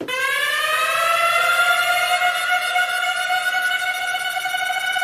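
A loud wailing J Dilla siren sample holds a steady rising tone, sustained and alone for several seconds.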